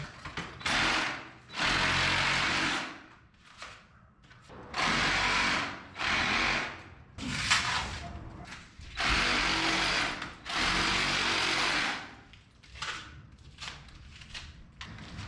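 An overheated reciprocating saw cutting in repeated bursts of about a second or two, each a loud, rattling mechanical buzz, separated by short pauses.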